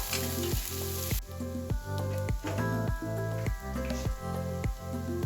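Masala paste frying hard in a pan for prawn and yam curry, a loud, steady sizzle with rhythmic stirring scrapes repeating about every half second throughout, close and alone.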